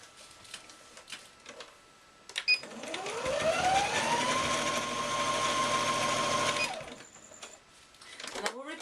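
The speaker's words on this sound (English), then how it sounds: "I'm going to stitch across that corner" Close by, a sewing machine stitches across the corner of a handbag in one sustained, rising whir lasting a few seconds, framed by quiet handling noises before and after.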